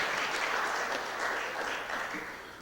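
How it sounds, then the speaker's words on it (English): Applause for an alderman at a Board of Aldermen meeting: a steady, moderately distant wash of many hands clapping together, easing slightly toward the end. "let's give Alderman Arnowitz a big round of applause"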